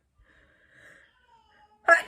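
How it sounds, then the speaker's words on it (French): A single sharp sneeze bursts out at the end after a faint, drawn-out wheezy inhale building up to it. "Attention, je vais éternuer."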